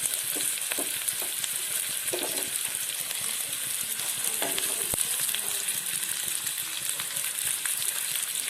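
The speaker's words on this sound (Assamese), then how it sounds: "গোটেইখিনি একেলগে ঢালি দিম ইয়াত এইখিনি গোটেইখিনি দি পেলাই গোটেইখিনি অকণমান ভাজি ল'ম" Onions sizzle and crackle steadily in a hot pan, a constant close frying hiss with occasional stirring clatters and no talking.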